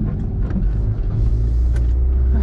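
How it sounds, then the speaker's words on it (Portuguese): A small Fiat Palio pulls away, its engine giving a steady low rumble that grows fuller as the car drives off. Faint clicks sit over the running motor and no one speaks. "Então estamos saindo com um paliozinho aqui"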